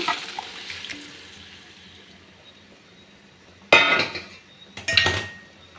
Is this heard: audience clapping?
no